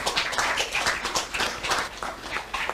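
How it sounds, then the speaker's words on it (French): A small audience at a local heritage and housing presentation claps, uneven hand claps from a modest group, moderately loud and brief. "Merci, on vous applaudit"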